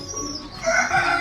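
A close chicken clucking and calling in a short burst on a windy day.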